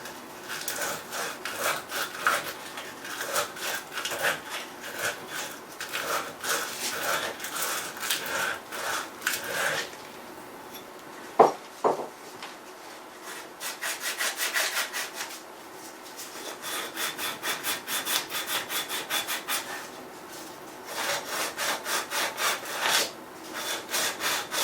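Oxidized metal being sanded by hand with 80 grit sandpaper: repeated rasping back-and-forth strokes in bursts, close and fairly loud, with a brief clatter midway and short pauses between runs.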